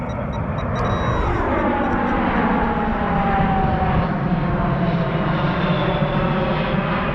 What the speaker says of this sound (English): C-130, I believe. It's a big boy.